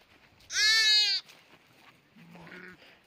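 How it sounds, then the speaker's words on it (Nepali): A young goat kid near a sheep pen on a Nepalese mountain trail lets out one loud, close, wavering bleat lasting about a second, followed by quieter low murmuring and faint background sounds. "यहाँनिर सानो पाठा कराउँदैछ"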